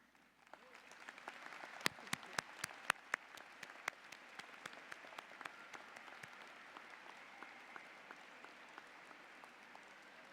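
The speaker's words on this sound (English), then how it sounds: "Please at this time stand and applaud your parents." Graduation audience at a high school ceremony standing to applaud their parents, a sparse ring of distinct claps swelling into steady, moderate applause in a large space, then slowly thinning out.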